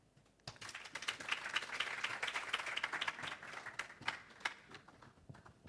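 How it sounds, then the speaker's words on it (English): An audience at a global health research symposium applauds with continuous, fairly faint clapping that swells and lingers for several seconds. "With a round of applause, can we kindly welcome him?"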